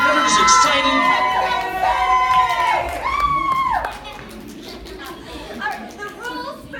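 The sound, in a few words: crowd cheering at a surfing competition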